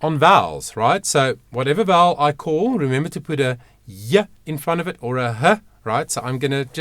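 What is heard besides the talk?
None of the usual background noises is heard.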